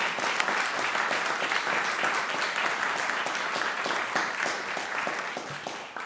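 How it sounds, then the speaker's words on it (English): Steady applause from an audience at a legislative public forum and meeting, a dense continuous patter of clapping holding evenly for several seconds before easing slightly at the end. "So I would really appreciate if we could give them a round of applause."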